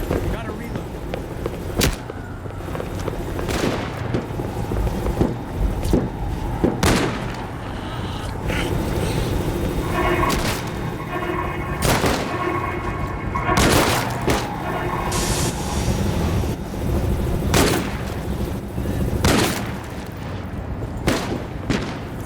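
Heavy video game gunfire in No More Room in Hell 2, with loud booming shots spaced irregularly over a steady background din of zombie-survival combat, some bursts clustering together; speech also appears.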